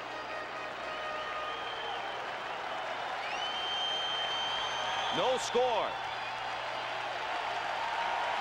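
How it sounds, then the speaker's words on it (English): Crowd at a baseball stadium during the 1992 World Series, Game 3, Blue Jays vs Braves, roaring steadily with light applause under a commentator's voice, swelling briefly near the end. "The count is full as the crowd roars."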